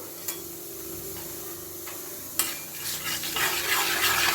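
Half a teaspoon of Kashmiri chili powder stirred into hot oil in a pan for radish and pea dal, with soft scraping, a low continuous sizzle and a couple of sharp spoon taps on the pan.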